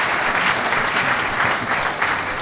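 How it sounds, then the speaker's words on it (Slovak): Audience applause at the Dedina roka 2025 village awards ceremony in Budmerice, steady clapping from many hands that holds at a moderate level for the whole stretch with no talk over it. "To si tiež zaslúži potlesk."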